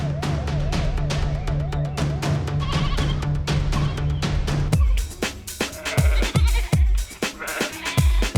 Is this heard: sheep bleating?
yes